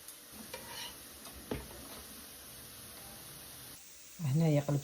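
Bradj semolina cakes frying in a pan, a soft steady sizzle with light scraping and tapping as they are turned, ending in a louder burst near the close, while someone talks.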